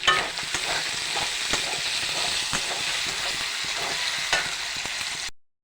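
Finely chopped tomatoes hit a hot frying pan with green chillies for a soybean and potato curry, giving a steady, close sizzle broken by scraping stirs, with no talking.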